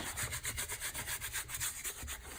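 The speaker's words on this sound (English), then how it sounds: "You're going to use the scraper, and you're going to scrape it down to your board." A hand scraper drags material down against a board in steady, rhythmic back-and-forth rasping strokes, close and fairly loud, with no voices.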